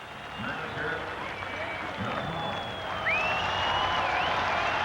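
A baseball crowd at Fenway Park cheers and applauds White Sox manager Ralph Houk before a 1981 Red Sox game, a steady broad roar of clapping and shouts that swells slightly near the end, with faint talk underneath.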